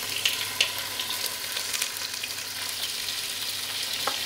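Meat fries in oil in a pot while cooking Shahi haleem, giving a steady, fairly soft sizzling hiss with a couple of sharp pops near the start and no voices.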